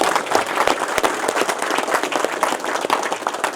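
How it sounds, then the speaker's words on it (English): Applause from an audience at a martial arts coral belt promotion ceremony, loud continuous clapping from a room of people, close and steady throughout. "clap it up for Master Dalla right here."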